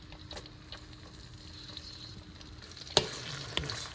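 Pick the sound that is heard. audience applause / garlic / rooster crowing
garlic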